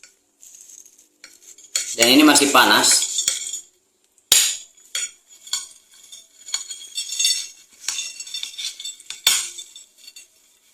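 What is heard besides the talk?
fried potatoes moved onto a serving plate with utensils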